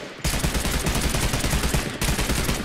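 Dense, sustained gunfire in the Realm Royale battle royale game, a near-continuous automatic burst that starts abruptly after a brief lull and runs loud throughout, with only a short dip partway through.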